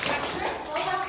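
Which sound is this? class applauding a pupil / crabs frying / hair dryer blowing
class applauding a pupil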